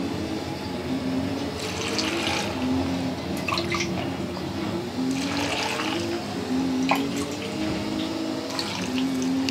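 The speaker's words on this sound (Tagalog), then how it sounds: "Tapos, lagyan natin ng water." Water is poured into a container of olives for pickling, making a soft continuous trickle with bubbly, splashing bursts that come and go at moderate volume.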